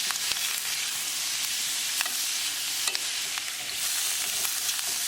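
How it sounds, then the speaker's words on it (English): Pre-cooked lobster tail is stirred in garlic butter in a pan over low heat, producing a constant hissing sizzle with occasional sharp spatula scrapes and knocks, close and without speech. "Now add lobster tail. Mix it well."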